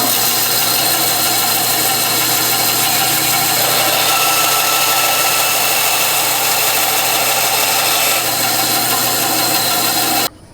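Fine-toothed bandsaw cutting a wooden cigar box guitar neck to length, a loud steady motor drone with a broadband cutting hiss, close up, stopping abruptly at the end.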